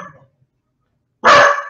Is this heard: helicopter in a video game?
no